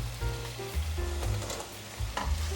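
Cucumber stir-fried in a pan of boiling seasoned sauce, giving a steady sizzle and bubbling with a few scraping stir strokes, close and moderately quiet, with no talking.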